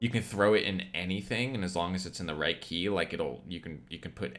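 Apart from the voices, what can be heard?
No distinct noise like a dog, phone or traffic.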